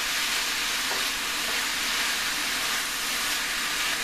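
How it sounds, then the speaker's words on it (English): Bok choy and very firm tofu sizzle steadily in a pan while being stirred, a continuous bright frying hiss close by. "So we're gonna go back over to this bok choy, work on getting it all stirred in there."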